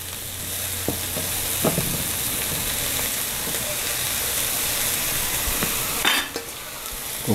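Finely chopped collard greens with their stems fry in a pan, giving a steady close sizzle. A utensil stirs them with scattered scraping and clicking sounds, and a louder clatter comes near the end.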